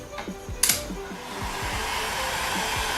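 A heat gun blows a steady, loud hiss while heating Worbla thermoplastic pressed over a clay form, with a few light clicks and taps just before it switches on.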